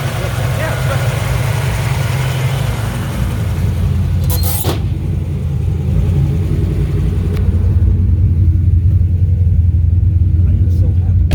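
A 1987 Pontiac Trans Am with a 400 engine and five-speed rumbles low and steady during a ride, a deep continuous drone inside the car with voices talking over it.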